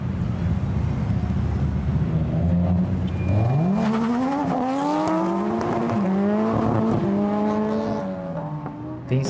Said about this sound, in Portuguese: Aí chegou o drift.